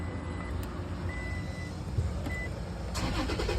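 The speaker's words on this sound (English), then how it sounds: "You can start your truck." A 2018 Toyota Tacoma is remote-started with a Viper system: a few thin electronic chirps, then the engine cranks and catches near the end, all over a steady, dense rumble.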